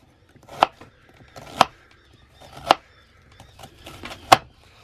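A knife chops an onion into quarter-inch pieces on a board, five or six crisp, close strikes at an uneven, unhurried pace with quiet gaps between.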